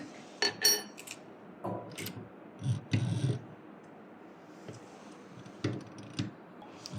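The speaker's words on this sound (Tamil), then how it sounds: "ஃபுட்டரை மாற்றிட்டு நான் தையல் போடுறேன்" Small metallic clicks, taps and clinks from swapping the presser foot for a roll hemming foot on a Jack sewing machine, scattered and close, with short irregular bursts separated by quiet gaps.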